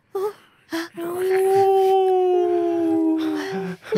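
Drawn-out wolf howls, one long steady voice held for nearly three seconds with shorter yips and whimpers before and after, loud and close with no talk over it.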